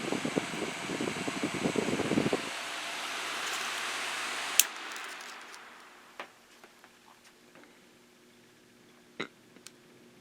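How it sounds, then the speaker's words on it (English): A vintage Windsor Model S-10 electric fan running: a steady whooshing airflow with motor hum winds down and fades, leaving faint ticks and clicks in near silence. "This is a very quiet fan, and I really love the startup sound on this."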